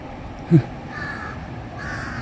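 A single short crow caw rings out once against a steady outdoor background hum.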